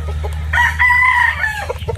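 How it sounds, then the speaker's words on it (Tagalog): Small chickens calling close by, one drawn-out crowing squawk over a steady low farmyard hum. "mga maliliit na manok yan"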